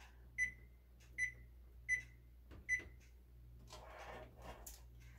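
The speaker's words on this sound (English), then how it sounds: "I'm going to preheat my oven to 375 degrees." Four short, evenly spaced electronic beeps sound from an oven as it is set to preheat to 375 degrees in a home kitchen, followed by faint rustling and handling noise.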